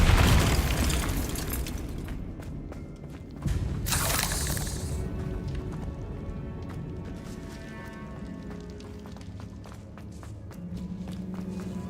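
A Bombarda spell blast goes off in Hogwarts Legacy, a loud booming burst with a crackling, shattering spray around four seconds in, over dense game combat noise, footsteps and rumble, with no talk.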